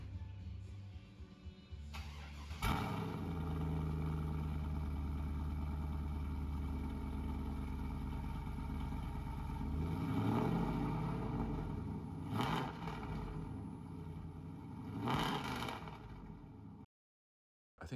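A 2002 Pontiac Trans Am V8 running through a Texas Speed Y-pipe with headers and 3-inch exhaust, a steady close rumble that holds for most of the clip, with a few revs rising and falling before it cuts out.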